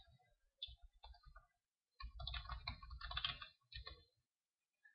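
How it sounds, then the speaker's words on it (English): Someone types on a computer keyboard, soft clicking keystrokes coming in a few short bursts with brief pauses between them, quiet and close with no talking. "You just type, and you can use Notepad."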